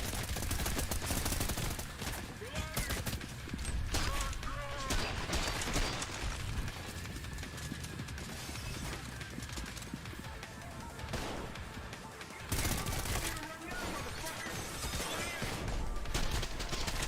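Video game gunfire in dense, rapid bursts that keep cracking and rattling almost without pause for the whole stretch, loud and close.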